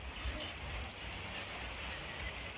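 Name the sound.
rain falling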